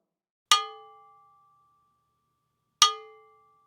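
A bongo bell (cowbell) struck on its side rings out twice, sharp metallic clangs spaced about two seconds apart, each leaving a sustained ringing tone that fades away in the quiet between hits.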